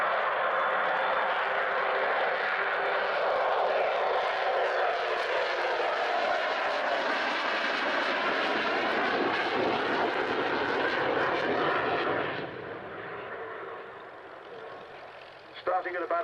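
Aircraft engines roar loud and steady through an air show fly-past, biplanes among the flyers, the drone holding for about twelve seconds before dropping back to a quieter, more distant hum.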